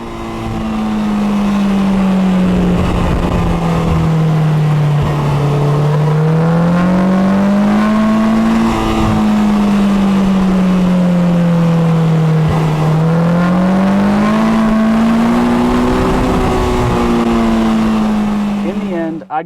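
A Polaris Slingshot three-wheeler at full power drives through the Malibu hills, its engine droning loud and steady throughout while the pitch rises and falls in long sweeps as it accelerates and eases off.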